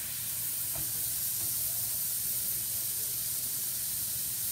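Wine evaporating in a hot pan with chicken gives a steady, broad sizzle and hiss, even and unbroken, close up and moderately loud with no voices.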